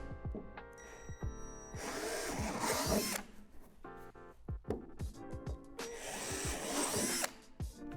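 A power drill with a 3/8 bit whines and grinds through a plastic swing-set slide in two long bursts, with spin-up and slowdown between, close and fairly loud.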